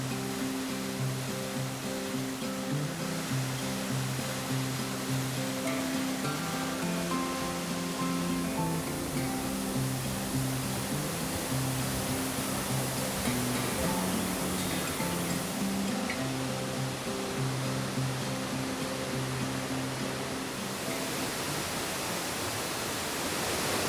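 Waterfalls in the Watkins Glen gorge at the south end of Seneca Lake give a constant, loud, broadband rush of falling water that stays steady and unbroken throughout.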